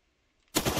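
In the Rust video game, quiet gives way to a sudden loud burst of gunfire, rapid shots running together into a continuous close-range roar that lasts until the end.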